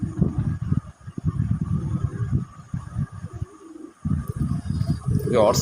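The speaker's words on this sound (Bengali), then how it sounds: "নটটাই ডাকতেছে তো ডাকতেছে ও অসাধারণ কিভাবে লাভ দিয়ে ডাকে" A male red pigeon calling to its mate, giving repeated deep, throaty courtship coos in rhythmic bursts, close and fairly loud, with a brief pause midway.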